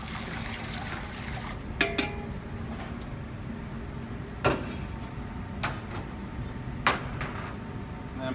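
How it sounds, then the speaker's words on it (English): Warm water trickles into a bowl to bloom yeast, a soft, quiet pour running steadily beneath a few sharp knocks and clinks from utensils. "I'm going to put the warm water in there."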